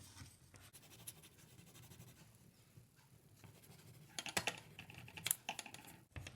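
Marker coloring in a shape on paper, a soft steady scratching of strokes close by, quiet at first and growing louder with quick back-and-forth scribbles near the end, no voices.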